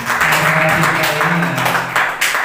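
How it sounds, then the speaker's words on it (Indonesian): Applause from an audience at a school teachers' dissemination session, a brief burst of dense clapping overlapping with a voice speaking underneath, loud and close throughout. "tepuk tangan semuanya"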